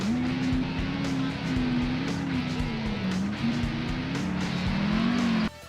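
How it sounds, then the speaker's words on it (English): Car engine from a PS2 racing video game, droning and revving steadily as it accelerates, loud and continuous with small shifts in pitch, then cutting off near the end. "The engine sounds are actually pretty solid, there's a decent sense of weight and power when you accelerate"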